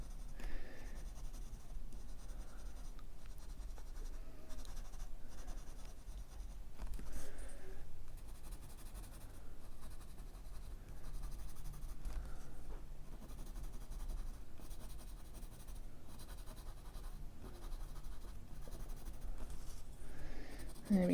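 A graphite pencil shades on a small Zentangle paper tile in a soft, continuous scratchy rasp, faint and close, with gentle strokes repeating steadily throughout and no talk.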